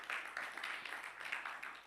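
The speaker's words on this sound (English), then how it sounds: "We can give him a round of applause." Audience applause at the Asteroid Day Festival, a quiet, steady patter of many hands clapping at a distance, continuous through the moment without voices over it.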